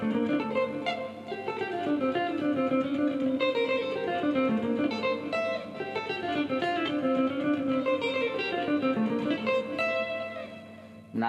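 A clean electric guitar plays a flowing makossa lick built on a pentatonic idea, with a continuous run of bright plucked notes at moderate loudness and no voice.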